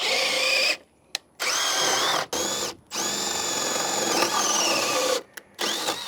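A power drill whines loudly in several bursts, its pitch rising and dipping as it bites through a deck board, with short pauses between runs.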